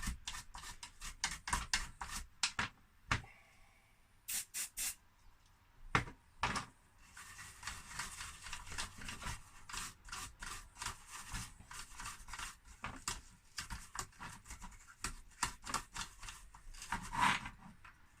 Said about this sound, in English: the actual circuit board itself. So let's scrape that away.